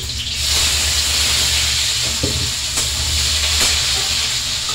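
Onion and tomato added to hot oil seasoned with cumin, hissing in a steady loud sizzle with a few soft clinks and stirring knocks, no voices.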